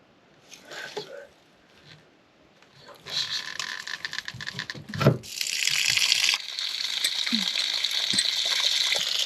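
Water gushing and splashing out of an RV holding tank drain after handling noises, a steady loud rush in the second half, with people talking.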